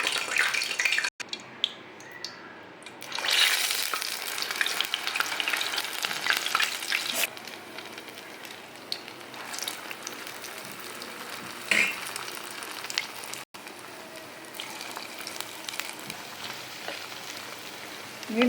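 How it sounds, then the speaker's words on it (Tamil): Medu vada frying in hot oil over a medium flame, a loud steady bubbling sizzle that runs throughout with brief stirring shifts and no talk. "வடை சுட்டு அதில் போட்டு எடுக்கணும்."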